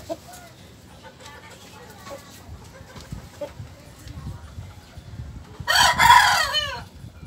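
In a backyard coop of Sebright chickens and young stag roosters, soft clucks and low murmurs are followed by a loud, close rooster crow near the end, over a faint background hum.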